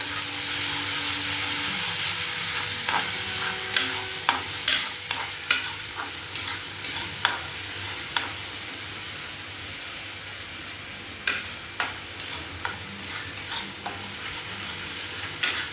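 Ginger garlic paste frying in a kadhai in a home kitchen gives a steady sizzling hiss, with a scattering of sharp scrapes and clicks as a spoon stirs it.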